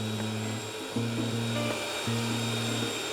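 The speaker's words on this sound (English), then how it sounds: "If you have a mixer like this, you may have a hand mixer, so just make sure that you are whisking it both ways." An electric stand mixer whisks lemon cake batter for a pressure cooker Bundt cake, a steady close motor whine with shifting pitch as the speed changes.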